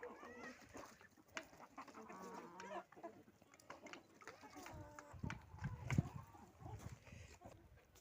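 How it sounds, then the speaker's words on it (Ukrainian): Chickens cluck intermittently nearby amid a busy farmyard with geese, with some quiet background noise and occasional louder bursts. "Гуси відійшли, кури пішли їсти."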